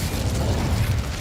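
A steady roaring, crackling burst of fire from the Incendio spell cast in the Hogwarts Legacy video game, sustained at an even level for its whole length with a dense low rumble and no talk.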